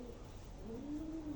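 Pigeons of a fancy breed coo in a low, rising and falling call across most of the moment, steady and fairly close, with no talk over it.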